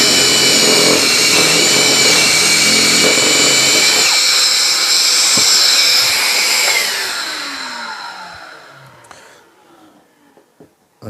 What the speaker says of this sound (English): So let's turn it over on and we'll drill the second hole